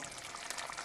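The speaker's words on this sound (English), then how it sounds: "That's been simmering away on low heat for about 12-15 minutes." Chicken tikka masala curry sauce simmering on low heat in a pan, a steady soft bubbling and hissing heard close up, with no other sounds over it.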